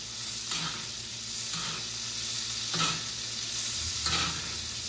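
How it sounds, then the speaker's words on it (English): A steak sears on high heat in a pan with butter, garlic, onion and thyme, giving a steady loud sizzle broken by periodic bursts of spoon-basting splashes. "And we'll just let our steak sit. We'll continue to baste."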